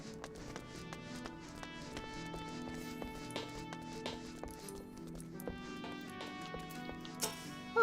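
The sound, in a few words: horse hooves clip-clopping in Final Fantasy XIV video game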